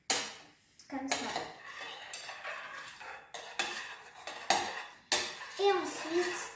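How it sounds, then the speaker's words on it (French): Egg and banana mixed in a bowl with a utensil for chocolate banana muffins, giving repeated close clinks and scraping knocks against the bowl in uneven bursts. "maintenant on va mélanger un petit peu l'œuf et la banane"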